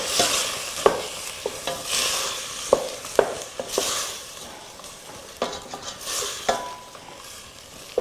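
Onions and meat frying in a pot for jollof rice, a steady sizzle under repeated scraping stirs and sharp clinks of a utensil against the pot, close and fairly loud.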